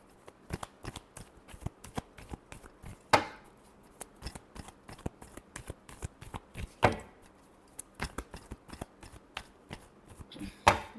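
Tarot cards are shuffled close by in quick, irregular bursts of soft slaps and riffles, with a few louder snaps spaced every few seconds and no talking.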